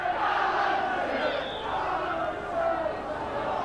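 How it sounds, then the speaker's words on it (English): A football crowd at a Leeds v Hull match roars and chants in a broad, somewhat distant swell that rises and falls steadily. "Could have been Alan Tate, actually, with the cheers that are coming from the crowd."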